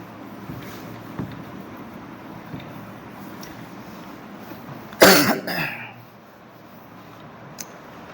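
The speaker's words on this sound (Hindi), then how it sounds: "खांसी छूट ही नहीं रहा।" A man with a lingering cough from a chill lets out one harsh, close cough with a short rasping follow-up in a quiet indoor room, standing out loudly against faint background hiss.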